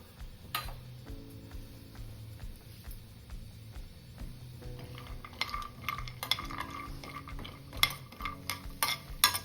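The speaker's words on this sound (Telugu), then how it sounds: "ఇప్పుడు మనం దీంట్లో జీడిపప్పు వేయించుకుందాం" Quiet sizzling in a pan with a spoon scraping and stirring, soft clinks and taps growing more frequent toward the end.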